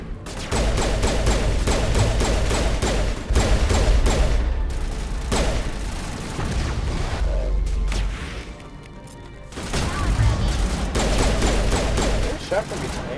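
Rapid bursts of automatic gunfire crackle in the Mass Effect video game. The dense firefight runs near-continuously in loud volleys, with brief lulls, and a voice speaks over it.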